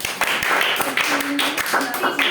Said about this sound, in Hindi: इसके लिए भाई ताली बजाओ